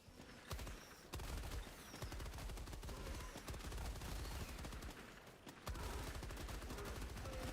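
A machine gun in a video game fires in dense sustained bursts, rapid heavy thuds rattling on with short pauses between volleys, loud and close.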